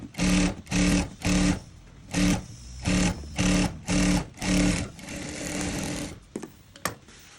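A sewing machine stitches a princess-line saree blouse in eight short, even bursts with brief pauses between them, then a longer run fades into a few light clicks near the end.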